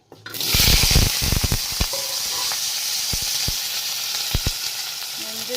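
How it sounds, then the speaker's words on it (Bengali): Potatoes dropped into hot oil in a wok burst into a loud, steady sizzle that stays up close throughout, with scattered sharp clicks and scrapes from stirring. "এখন তেল দিয়া দিব আলু ফ্রাই করার লেগে গরম দিছে এবার আলুটা দিয়ে দিব"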